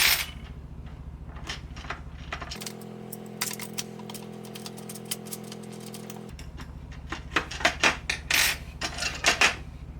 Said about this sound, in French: vous allez prendre le fer blanc, les deux vis et visser ça dans le truc du haut